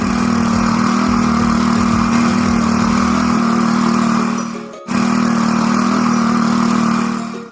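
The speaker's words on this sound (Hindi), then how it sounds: "और फिर थोड़ी देर बाद हम हमारे खेत पर आ गए और हमने हकाई शुरू कर दी और उन अंकल जी के साथ मैं भी ट्रैक्टर में बैठ गया।" A tractor plowing a farm field runs with a steady, loud, close engine drone that holds nearly constant, dipping briefly for a moment before resuming at full strength.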